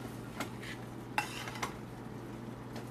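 A spoon scrapes and stirs grits in a pot on the stove, giving a few soft, separate scrapes and knocks against a quiet, steady background hum.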